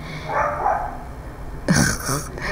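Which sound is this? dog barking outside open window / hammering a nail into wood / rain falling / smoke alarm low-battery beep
dog barking outside open window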